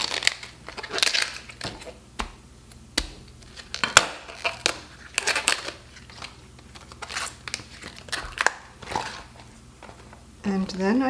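Outer leaves pulled off a cabbage by hand, crisp crackling tears and crunchy snaps coming in irregular close bursts, with a voice heard briefly near the end.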